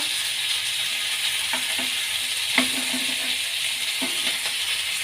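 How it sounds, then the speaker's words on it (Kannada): Mango and tomato roast in a hot pan with a steady, close sizzle, punctuated by a few soft clicks and taps from stirring. "ನೋಡಿ, ಇದೇ ರೀತಿ ಚೆನ್ನಾಗಿ ರೋಸ್ಟ್ ಆಗಲಿ"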